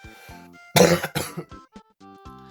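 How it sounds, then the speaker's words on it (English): A harsh, loud cough bursts out twice in quick succession, followed by a few small throaty sounds, with no talking. "sorry for the cough."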